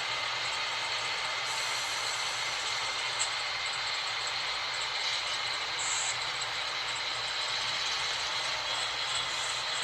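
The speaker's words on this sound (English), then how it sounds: "now 4436 is a short train, just because he's light engines" Soo Line freight locomotives running light rumble past steadily on a downhill grade with a broad rushing hiss and low mechanical drone, continuous and fairly distant, with occasional faint squeals.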